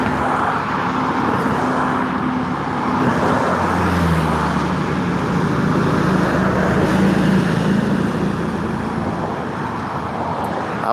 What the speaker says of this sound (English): I believe that big truck's trying to get over in this right lane